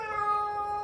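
A cat being washed lets out a loud, drawn-out meow, a single sustained wail up close.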